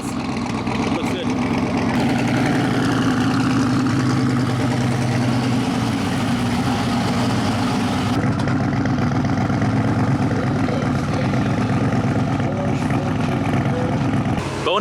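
A twin-turbo 408 V8 car engine with dual teardrop bumper-exit exhaust runs steadily at idle, a loud, close, continuous low rumble with people talking over it throughout.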